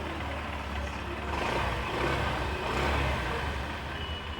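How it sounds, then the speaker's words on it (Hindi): A 2025 Honda Livo 110cc motorcycle idles in good condition, its steady exhaust note a dense, even rumble with no other sounds. "ये लो आइडियल कंडीशन पर इंजन साउंड,"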